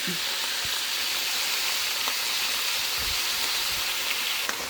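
Seasoned meat frying in a pan gives a steady, close sizzle with a few stirring clicks and scrapes, unbroken and without talk.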